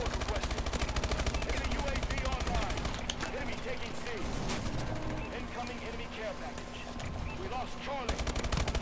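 Rapid hip-fire bursts from automatic weapons rattle almost nonstop through a Call of Duty: Advanced Warfare online match, loud and dense, with a few sharper shots breaking through the steady clatter.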